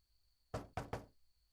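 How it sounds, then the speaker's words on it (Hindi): Three loud, close knocks strike a door in quick succession, each a sharp thud, with near silence before and after and no talking. "हयात सुनो, दरवाजा खोलो"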